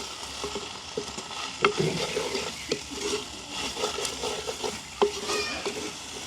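Stirring sea mussel curry with tomato sauce in a pan, with a soft continuous sizzle broken by scrapes and knocks of the spoon against the pan at an uneven pace.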